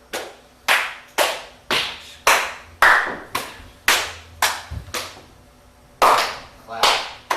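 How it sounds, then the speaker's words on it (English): Rhythmic body percussion in a music theory workshop, alternating sharp hand claps and thigh pats in a steady, evenly spaced pattern, about a dozen crisp close hits with brief gaps between them. "Clap, patch, clap, patch, clap."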